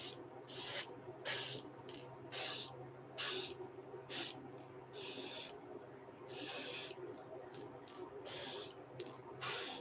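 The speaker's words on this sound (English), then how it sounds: "You'll see when I spray it." Short, sharp hissing bursts of spray paint coat a fishing lure in craw colors, coming in an irregular series of close puffs of varying length over a faint background hum.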